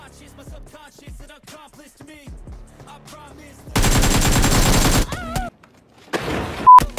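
A burst of rapid automatic gunfire in the mobile battle royale game PUBG Mobile, loud and dense for over a second, followed by a few shorter shots, with a Turkish-speaking player's voice talking before it.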